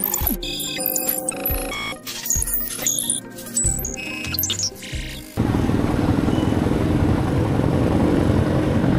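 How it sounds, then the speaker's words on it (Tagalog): A Yamaha Sniper motorcycle engine runs with a steady, dense buzzing drone that starts partway through, after a stretch of unrelated tonal music-like sounds. "Yan yung tunog ng makina niya."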